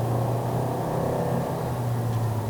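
A 2023 Toyota Vios NGC102 engine drones as the driver presses the accelerator harder, a steady muffled in-cabin hum that holds at a fairly even level with no talk.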